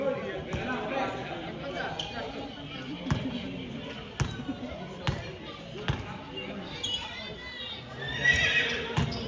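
At a senior basketball game between San Miguel and Alaska, a horse whinny rings out near the end over the court's hollow ball bounces and sharp squeaks, while an announcer talks steadily throughout.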